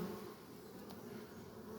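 Honeybees drone steadily at an apiary hive during the hazelnut pollen season. The buzz is dense and continuous, close and fairly loud, with no voices over it.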